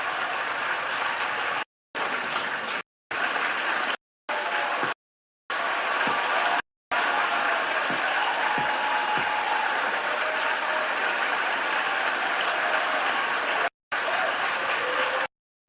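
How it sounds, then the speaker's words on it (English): Steady round of applause in the Senate chamber after a nomination vote, a continuous dense patter of many hands at moderate level, broken by several brief cuts to silence. "they're just doing like a roundhouse of applause real quick"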